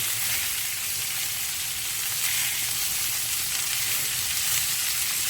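Rosemary and garlic marinated lamb chops frying in a hot pan, giving a steady, dense, continuous sizzle and crackle at close range, with no talk.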